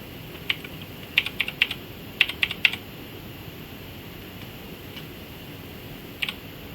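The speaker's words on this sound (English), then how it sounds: "we are going to type a large number" Typing a number on a computer keyboard, a short burst of crisp key clicks in an uneven cluster, followed by a lone tap later, quiet and close.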